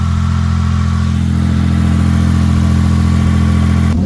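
A car engine revs hard through a newly fitted rear silencer, a loud, sustained low droning rumble with a steady throbbing pitch that cuts off sharply near the end.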